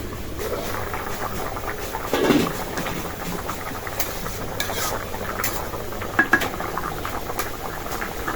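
Okra goes into a boiling, sizzling pot of curry, giving a soft steady bubbling with a few metallic clinks of a utensil against the pot.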